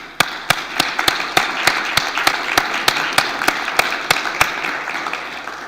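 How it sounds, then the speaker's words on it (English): Sparse, sharp claps ring out one after another, a loose, thin scattering of hands rather than a full ovation from an audience at a hydrogen forum panel session, steady across several seconds with a faint room hum beneath. "A round of applause, please, for our panel."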